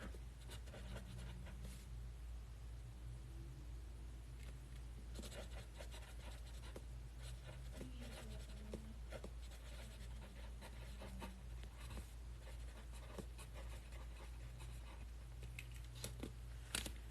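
A pen scratches across paper in a long, continuous run of soft strokes and taps, faint over a steady low hum, with no talk.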